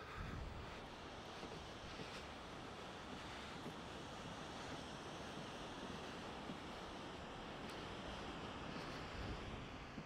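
Ocean waves and surf breaking on a Gold Coast beach, a steady broadband wash that roars on without pause for the full ten seconds, with wind buffeting the microphone and no voices.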